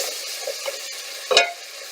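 Flour is stirred into a roux in a hot pan over medium-high heat, making a soft, steady sizzle with scraping strokes and a brief louder scrape near the end, close and without talk.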